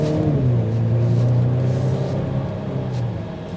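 A 2024 Volvo V90 Cross Country B6 wagon accelerating, heard from inside as a steady low engine drone that rises in pitch and then eases off, loud and continuous, with no talking.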